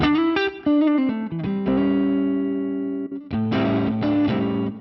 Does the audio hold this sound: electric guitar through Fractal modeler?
yes